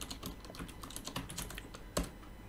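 Steady typing of code on a computer keyboard, a close, quick run of clicking keystrokes with one louder key strike near the end, heard alone without talk.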